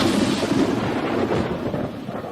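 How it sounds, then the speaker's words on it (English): Rumbling thunder sound effect under a spoken audiobook narration of a comic story; a dense, low, steady roll that slowly fades toward the end, loud and continuous, with no words spoken over it. "7 thunders utter their voices. I see the lightning strike."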